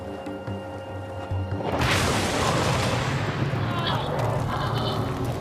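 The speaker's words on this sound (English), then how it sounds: "The gasoline fumes ignite, causing a huge explosion." Gasoline fumes on a doused boat igniting into a huge explosion, a sudden loud roaring blast that swells and then rumbles on without letting up.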